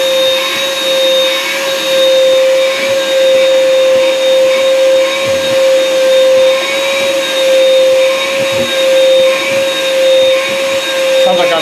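A shop vac runs steadily and loudly up close, a constant whining motor hum with rushing air, holding an even tone throughout.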